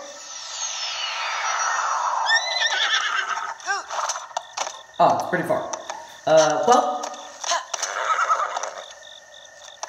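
A horse in the video game Zelda: Breath of the Wild whinnies loudly, its hooves clip-clopping on the ground, while a person talks over the game sounds.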